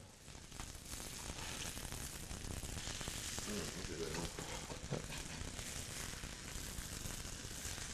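Venison and sweet potato pancakes frying in a pan, giving a steady, broadband sizzle that holds even and fairly close throughout, with some faint handling sounds underneath.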